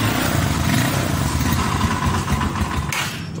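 A Yamaha Scorpio 225 single-cylinder motorcycle, a 2006 model with modifications, idles too low, putting out a steady, close, uneven low rumble with faint clatter.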